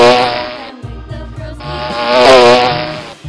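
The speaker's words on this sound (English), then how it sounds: "Wasp." A loud, harsh wasp buzz in two sustained bursts split by a short break, close and alone.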